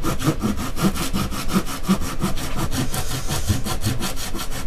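A hand saw cuts wood for a six-string multiscale bass guitar body, with steady rhythmic back-and-forth rasping strokes, close and fairly loud, about four strokes per second with no talk.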